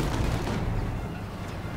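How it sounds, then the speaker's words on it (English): A light armored car's auto cannon fires into thinly armored targets in the Company of Heroes 2 beta, a dense, loud, low battle rumble with blasts running together over about two seconds and no speech. "blasting away, tearing through the thin armor with its auto cannon"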